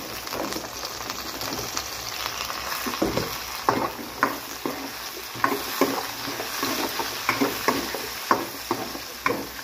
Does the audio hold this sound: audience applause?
no